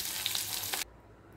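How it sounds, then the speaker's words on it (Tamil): Salted vegetables sauté in a pan for a side-dish gravy to serve with chapati and puri, a soft steady sizzle with a couple of brief stirring scrapes, cutting off abruptly partway through. "இது நல்லா வதங்கட்டும்."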